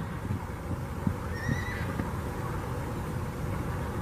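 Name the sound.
horse neighing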